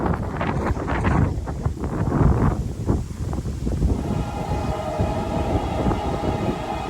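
Two trains with dimmed headlights, one a long-hood-forward locomotive, roll past along tidewater rails, a steady broadband rumble and clatter under gusting wind noise on the microphone, with no talking.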